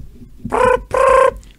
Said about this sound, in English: It's a phone. It's a phone.